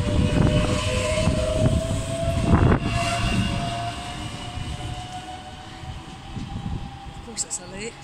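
A quiet electric train rolls past at Stirling with a steady hum and a faint high whine, while voices talk over it; the sound fades gradually toward the end.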